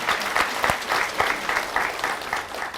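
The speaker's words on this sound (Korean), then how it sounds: "우리 하나님께 감사의 박수를 드리겠습니다" A church congregation gives a round of applause of thanks, with rhythmic, fairly unified clapping in a steady pulse that stays loud and close for a few seconds.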